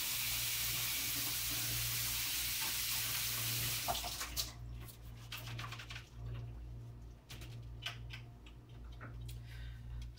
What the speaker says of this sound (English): I'm going to go ahead and rinse off these